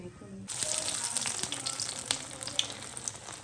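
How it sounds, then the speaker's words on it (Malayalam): Cutlets sizzle and crackle steadily in a hot pan, starting abruptly and continuing as a loud, close frying hiss. "കട്ട്ലേറ്റ് പൊരിക്കാൻ വേണ്ടിയിട്ട് വെച്ചിരിക്കുന്നത് ഇതിനെ പൊരിക്കണം"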